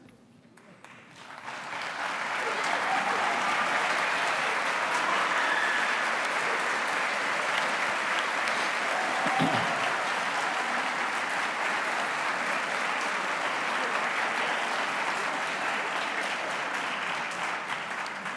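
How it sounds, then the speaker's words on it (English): An audience at a middle school fine arts festival gives a warm ovation to music and art teachers, with clapping swelling quickly and holding as a dense, steady roar for many seconds. "A well-deserved and warm round of applause"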